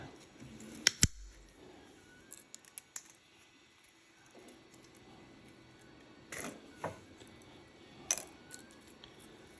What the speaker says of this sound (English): I want to cut this chip in half here, the diagonal cutters.